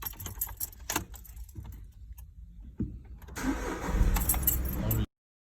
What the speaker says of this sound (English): And switching on the engine